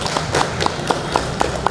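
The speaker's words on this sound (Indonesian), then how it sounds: "tepuk tangan untuk Mas Alvin" Sparse clapping from a small group at a morning assembly, with about seven distinct claps in a loose rhythm, near and fairly loud.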